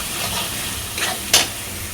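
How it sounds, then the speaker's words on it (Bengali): Meat and potatoes sizzle in hot oil with spices, a close, steady frying hiss broken by brief scraping stirs. "তেল ছাড়লে দিয়ে দেবো এই যে মাংসটা আর আলুটা।"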